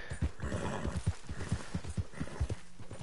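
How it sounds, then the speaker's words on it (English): Horse hooves clip-clop in the Red Dead Redemption video game, a quick, even series of hollow thuds close by, repeating steadily over a faint background. "This is my horse."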